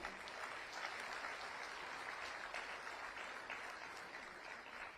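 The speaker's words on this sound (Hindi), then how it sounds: "आपसे गुजारिश करना चाहूंगी कि जोरदार तालियां बजाएं" Audience applause at the unveiling of the Rajasthan Textile and Apparel Policy 2025 during an investment event, steady sustained clapping from a large crowd, even and somewhat distant, fading slightly at the end.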